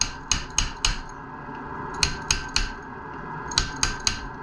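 A surfboard fin bearing is tapped into place through a timber block, giving loud, sharp knocks in quick bursts of three or four, separated by short pauses.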